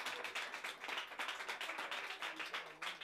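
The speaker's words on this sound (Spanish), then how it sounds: "un aplauso salud para nuestro homenajeado." Applause and clapping for a birthday honoree at a home party, a steady burst of many hands clapping with some cheering voices mixed in, fairly loud and continuous throughout.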